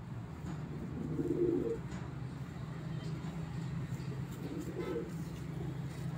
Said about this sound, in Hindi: क्रीज में पड़े हुए कबूतर हैं